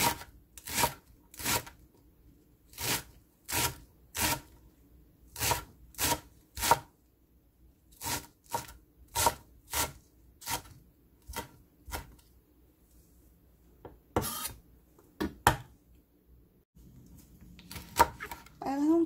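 Green garlic is finely chopped with a knife on a board, crisp rhythmic chops falling in quick bursts separated by brief pauses, with a few softer scrapes near the end.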